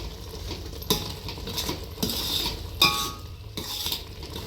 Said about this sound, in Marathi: आता हे एकजीव करून घ्यायचं आहे